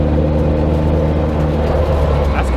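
Toyota AE86 with upgraded rear springs driving down a residential street, a steady low engine drone and road rumble heard from inside the car, with a voice talking over it.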